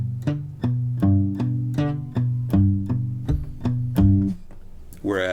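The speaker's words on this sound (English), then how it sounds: "if you're picking the notes of a chord and you're palm muting, it sounds something like this." A guitar chord whose notes are picked one at a time with palm muting: about ten short, dampened plucks in a steady rhythm, close and clear, ending with a brief unrelated noise.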